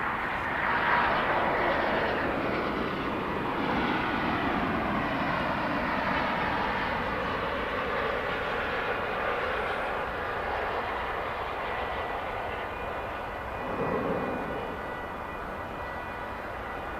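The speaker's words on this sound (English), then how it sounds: "we're going to check out this 777." A Boeing 777 airliner at DFW Airport fills the air with a broad jet-engine roar that holds steady and slowly fades, heard from a distance outdoors with no talking.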